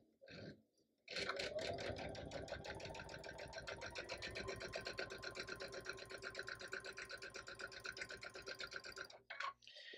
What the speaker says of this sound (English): when I put this in my machine and I sew it at a quarter inch